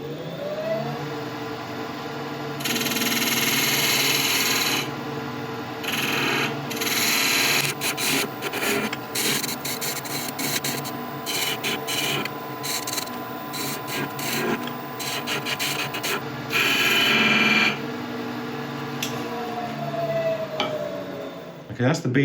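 Skew chisel cutting a bead on spinning wood on a lathe: a steady motor whir under repeated scraping, chattering cuts that come in bursts, loud and close.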